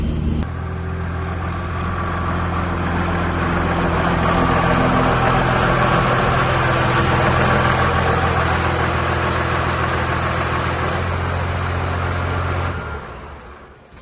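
First-generation truck engine running after a test drive, a loud steady rumbling idle with a constant low hum that swells slightly midway and then cuts off near the end.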